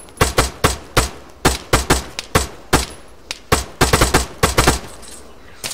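Rapid bursts of gunfire ring out in a video game shootout at a gas station, with sharp shots coming singly and in clustered volleys throughout, loud and close, with no talk over them.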